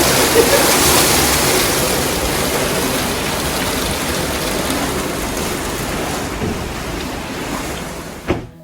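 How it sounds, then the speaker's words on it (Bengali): Heavy rain pours down in a steady, dense roar that fills the whole clip, sounding close and loud like a downpour drumming on surfaces, with a brief louder thump near the end. "বৃষ্টিটা দেখো শুধু ভিজে গেছে এ বাবা কোনো কিছু দেখা যাচ্ছে না এমন বৃষ্টি"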